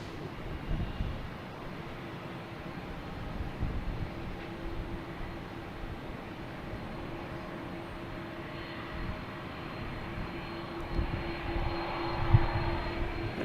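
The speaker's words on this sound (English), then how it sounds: "we got Aer Lingus coming around the corner here" An Aer Lingus airliner taxiing at Boston Logan Airport, its jet engines a steady rumbling roar heard from some distance, holding a constant drone with slight swells.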